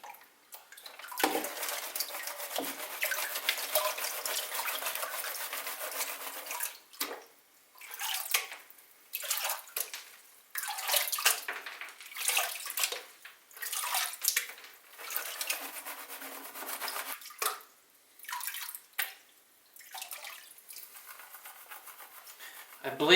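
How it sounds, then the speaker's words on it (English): Water sloshes and splashes in bursts as sand is washed in a gold pan, with a stop-start swirling rhythm and short pauses between passes, close by. "I believe Mr. Hurd said you keep panning until you can see this line all the way through your sands"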